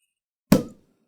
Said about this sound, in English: it's time to pop the cork and sample today's first official champagne selection